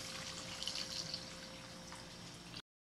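Water pours into a cooking pot for arroz caldo with rice, sweet potato and taro, a steady close splashing gurgle with a faint hum beneath, running about two and a half seconds before stopping abruptly.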